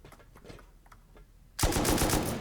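Sudden loud burst of rapid automatic gunfire in a first-person shooter video game, following a few seconds of faint scattered clicks and distant shots.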